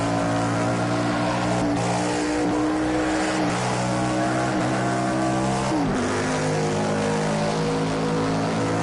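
Stock car engines drone in a dense, continuous roar in Project Cars 2 racing, with several cars' pitches overlapping and shifting as they rev and change gear, steady and loud throughout with no talk.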